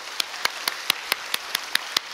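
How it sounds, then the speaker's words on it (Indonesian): A church congregation claps their hands together in a steady unison rhythm, sharp regular claps about every quarter second over a soft background wash, moderately loud with no talking. "Boleh tepuk tangan buat Tuhan kita?"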